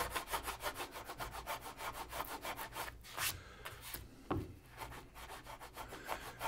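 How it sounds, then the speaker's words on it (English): A hand gouge scrapes sticky tape residue off the wooden braces of an archtop guitar top in quick, rhythmic back-and-forth strokes, close and dry, with a brief pause and a knock partway through. "So I decided to use the gouge to get the tape goo off."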